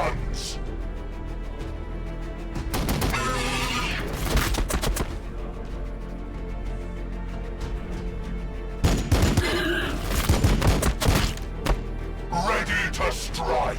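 Volleys of gunfire and heavy booms in the strategy game Warhammer 40,000 Battlesector, coming in separate loud bursts over a steady background rumble, with voices heard alongside.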